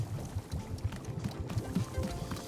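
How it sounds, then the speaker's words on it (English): Tea poured into a cup in the video game Wanderstop, a soft continuous liquid trickle with low bubbling, fairly quiet and steady for a couple of seconds with no talking. "pull the rope you see here in order to pour tea into the cup"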